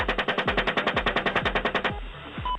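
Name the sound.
helicopter machine gun fire in Iraq footage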